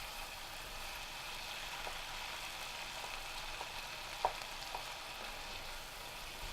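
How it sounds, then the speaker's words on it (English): Sliced cherry tomatoes fry in a pan with a steady, dense sizzle, while a few faint scrapes and knocks from stirring break through the hiss, and no one speaks. "add the sliced cherry tomatoes. And give them a good stir."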